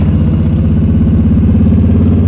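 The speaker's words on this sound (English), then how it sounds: "I rely a lot more on engine braking with a little rear brake." A motorcycle engine on a below-freezing winter road, engine braking at steady revs: a loud, continuous low throbbing drone with even pulsing, close and alone without voices.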